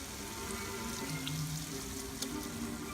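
Water poured into a pan of cooking beef gives a steady close hiss and sizzle, with a few brief splashy spikes throughout.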